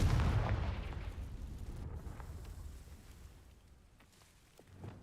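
Confringo fire spell blast in Hogwarts Legacy, a heavy booming burst that rumbles loudly at first and then fades into a long, low roaring tail, with a faint second swell at the end.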